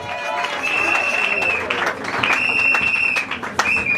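A church congregation claps and cheers at a Congolese preaching service, a dense, steady wash of applause with crowd voices and high shouts rising over it throughout.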